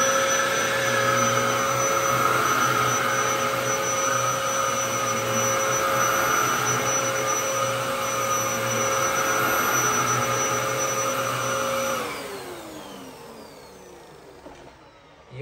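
A Dyson DC07 upright vacuum cleaner runs steadily on carpet in carpet mode at regular speed, a loud constant whine with stable tones. It cuts off near the end and winds down, the hum fading.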